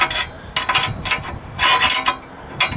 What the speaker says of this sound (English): right down in here you can't get all the way on that nut, so I just use a wrench, get down in there